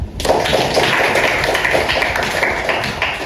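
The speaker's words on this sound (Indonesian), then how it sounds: "Oke, beri tepuk tangan semuanya." Students in a classroom clap together in a brief, continuous burst of applause, a fairly loud and even patter of hands that starts abruptly and holds steady.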